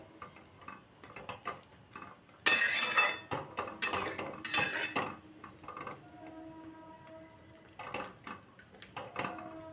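A spoon clinking and scraping in a pot as moong dal fritters are stirred into their curry, a cluster of sharp metallic clatters and knocks in the middle, quiet between strokes and no speech.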